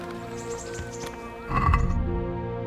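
A horse ridden in Kingdom Come: Deliverance moves with steady hoofbeats and a brief snort or whinny, against a humming game background that swells near the end.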